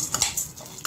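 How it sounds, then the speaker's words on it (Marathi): Roasted gram dal dry roasting in a pan, stirred with a metal spoon that gives a few short scraping clinks and light rustles, close and fairly quiet. "त्याच कढईत मी ही 2 चमचे फुटाण्याची डाळ घेतली आहे"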